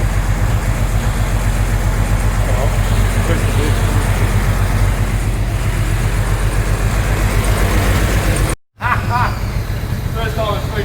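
An old car running for the first time in 40 years, its engine a loud, steady rumble throughout, with a brief dropout near the end and voices talking over it.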